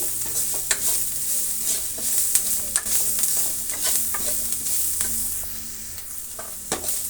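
Crushed garlic fries in a pan for a bhassaru made with ridge gourd, giving a steady sizzling hiss broken by repeated scraping stir strokes close by, with no talking.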